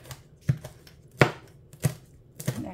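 A knife finely chops herbs on a board for Thai larb in four sharp, evenly spaced strikes, with no voices.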